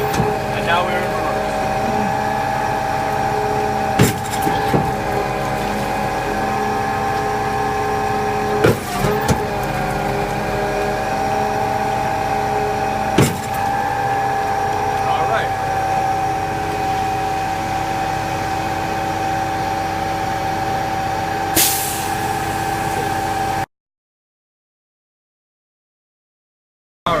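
A Putzmeister concrete pump truck runs in PTO, giving a steady droning engine and hydraulic hum with sharp periodic clunks every few seconds. A voice is heard over it, and the sound cuts to silence near the end.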